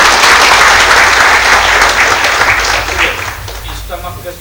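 A school and community gathering at Swaminarayan HV Vidyalaya, Adajan, erupts in loud, full crowd applause that gradually tapers off before a voice starts speaking at the end.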